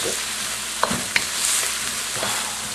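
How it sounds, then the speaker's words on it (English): Ginger is added to onion, shallots and garlic frying in a pan, producing a steady close sizzle with a few sharp pops and stirring clicks. "And I'm going to add in my ginger."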